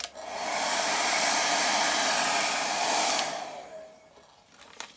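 A hair dryer blows loudly and steadily at close range over inked paper pages for about three seconds, then switches off and winds down.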